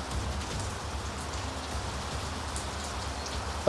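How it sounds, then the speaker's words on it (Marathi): Heavy unseasonal rain falls in Thane, a dense, continuous patter of drops on surfaces that stays steady and even throughout, with no voices. "ठाण्यात देखील अवकाळी पावसाने सुरुवात झाली आहे"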